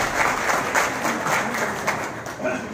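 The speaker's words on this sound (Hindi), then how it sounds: "तालियों से उनका हौसला अफजाई करें।" A crowd at a Lohri celebration for daughters in Batala breaks into loud, sustained clapping, a dense and steady patter with some murmuring voices mixed in.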